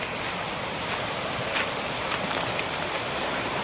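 Waterfall on Seneca Creek below Spruce Knob, a steady broadband rush of falling water heard close and continuous, without speech.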